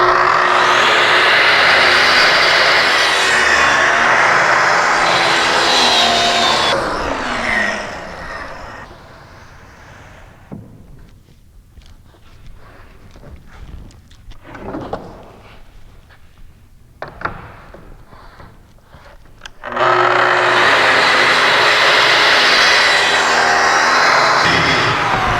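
A saw cross cuts plywood sheets for a Paulk workbench: two loud, sustained cuts at the start and end, with quieter shuffling and handling noises between them.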